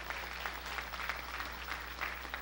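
A church congregation claps along at a Sunday evening Pentecostal-style service, the hand claps coming in loose rhythmic bursts over a steady low hum, moderately loud and without talk.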